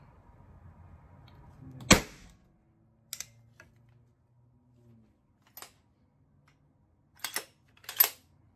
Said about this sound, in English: For the next round, simply cock back, load the fastener